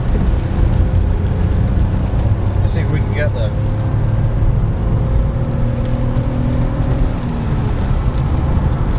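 A 1998 Daihatsu Sirion accelerates toward 60 mph, heard from inside the cabin as a steady, loud engine drone with tones that slowly climb. Someone speaks briefly over it.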